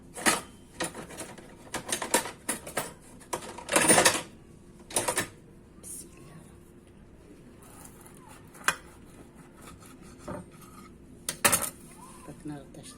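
Knife slicing a chicken dürüm wrap in half on a kitchen surface, with several sharp clinks and scrapes of utensils and dishes among irregular crunchy cutting sounds, close and uneven.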